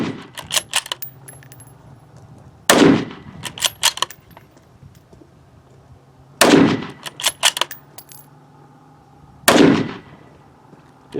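Three loud, sharp rifle shots from a Mossberg MVP Predator bolt gun spaced a few seconds apart in a timed prone fast-fire drill, with clattering bolt cycling and metallic handling noises between them and no speech.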